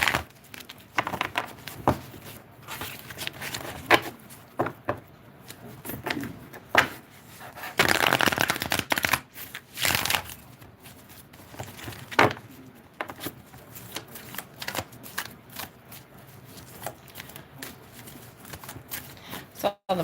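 Tarot cards shuffled by hand during a live reading, giving repeated soft riffling and slapping bursts with a longer dense flurry midway, heard close up while a person talks intermittently.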